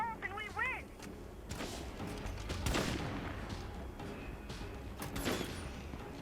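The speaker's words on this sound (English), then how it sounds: "my favorite kind of sniper, the R12 sniper" Gunfire from an R12 sniper rifle in the zombie survival game State of Decay 2, with several sharp reports spread across the clip, mixed with game sounds and a background music line.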